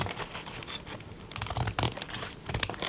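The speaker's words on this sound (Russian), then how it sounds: "переворачиваю и вдоль шоколадки аккуратненько отрезаю лишнюю бумагу" Excess paper is cut away along the edge of a chocolate bar wrapping for a handmade gift, making close, crisp cutting and crinkling sounds in short irregular bursts, with no voices.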